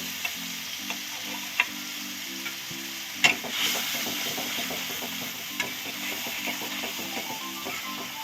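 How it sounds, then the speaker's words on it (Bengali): Spices with turmeric and salt frying in oil in a pan while being stirred: a steady close sizzle with repeated light spoon taps and scrapes, a slightly louder burst midway, no talking. "মশলাটা ভালো করে কষিয়ে নিই।"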